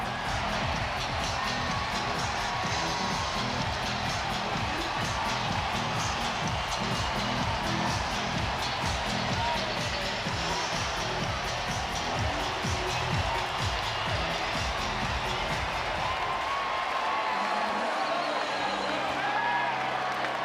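Baseball stadium crowd roaring after a home run at a Phillies versus Dodgers game, a dense sustained wall of cheering throughout, with rhythmic bursts early and the crowd noise thinning slightly near the end.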